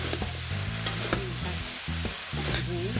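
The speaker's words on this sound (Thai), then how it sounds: "ผัดทุกอย่างให้เข้ากันเลยนะคะทีนี้นะคะพี่น้อง ผัดให้แห้งนะคะ" Instant noodles are stir-fried drunken style with kaffir lime leaves in a hot pan, a dense sizzle overlaid with rhythmic spatula scrapes and taps, close-up and with no voices.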